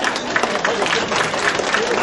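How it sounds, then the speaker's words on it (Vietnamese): Dense applause from a crowd fills the moment, with voices mixed into the steady clapping. "Xin cho một tràng vỗ tay."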